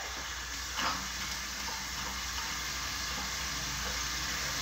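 Water rinsing makeup off a face: a continuous close rush of running water with a brief louder splash near the start, and no voices.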